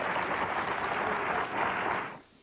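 A talk-show studio audience breaks into loud applause, a dense wash of clapping with a brief dip midway. It cuts off sharply after about two seconds, leaving near silence.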